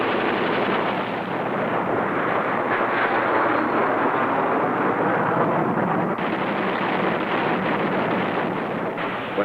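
Heavy, sustained blasts and rumbling gunfire from an air strike on surface-to-air missile sites and gun emplacements, a loud, continuous roar with no break and no voices.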